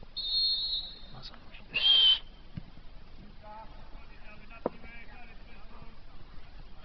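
A referee's whistle at a football match between LKS Kamionka and Stal Kraśnik gives two short, thin blasts, faint and distant, over a low outdoor background with people talking nearby.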